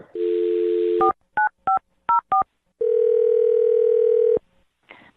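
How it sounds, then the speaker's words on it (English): A telephone dial tone sounds, followed by a quick series of short touch-tone dialing beeps, then a long steady tone before a brief click, all clear and close with no talking. "I'm going to dial her phone number right now."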